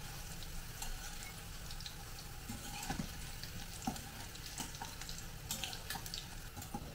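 Bitter gourd (karela) slices frying in oil while being stirred, a dense continuous sizzle with occasional soft scrapes and taps, fairly faint and steady; no talk.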